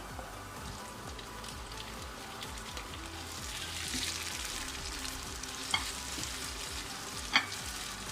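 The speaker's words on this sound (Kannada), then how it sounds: "ಈಗ ನಾನು ಟೊಮೆಟೊ ಕಟ್ ಮಾಡ್ಕೊಂಡಿದ್ದು ಇದಕ್ಕೆ ಹಾಕೊಳ್ತಾ ಇದ್ದೀನಿ ನೋಡಿ" Chopped tomatoes sizzling as they fry in a pan for a soya bean and peas curry, a steady close crackle with light stirring and two sharp clicks near the end, no talk.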